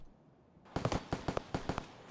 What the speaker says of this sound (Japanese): 銃声がしてるな。 ちょっと遠いかな。